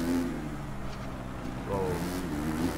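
RCH Suzuki motocross bikes racing a supercross track in MXGP 3, engines droning and rising in pitch as they accelerate, close and steady beneath a talking voice.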